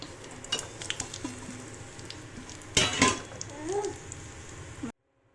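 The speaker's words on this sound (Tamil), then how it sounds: "இப்போ நெய் போட்டாச்சு. இப்போ கருவேப்பிலை போட்டுறேன்." Ghee tadka of curry leaves, cumin powder and black pepper crackling for baby rasam, a steady close sizzle with a sharp burst of spattering midway and faint stirring clinks, ending abruptly.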